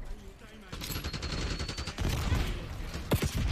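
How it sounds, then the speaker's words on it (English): Gunfire in Black Ops 6 on the Nuketown map, a mix of sharp shots and bursts with one loud crack near the end, continuous and fairly close amid other game noise. "No, it's just a sniper or something."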